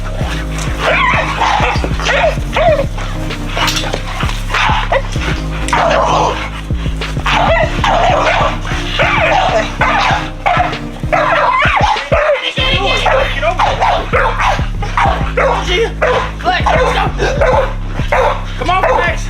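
American Bully dogs chasing a flirt pole bark and yip again and again, loud and close, while people talk and shout encouragement over the barking throughout.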